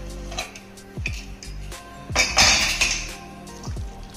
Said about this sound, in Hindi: और हम कुकर खोल के देख लेते हैं